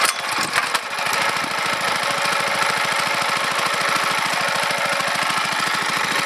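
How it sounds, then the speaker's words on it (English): A small choked engine starts and runs steadily, driving an induction motor generator, with a close, loud, evenly pulsing putter from start to finish. "You have to choke this engine every time you start it."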